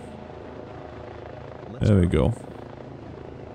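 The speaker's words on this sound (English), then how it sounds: "There is our helicopter." Helicopter in the firefighting game Incident Command, dropping water from a bucket. Its rotor drone runs steadily throughout while someone talks briefly in the middle.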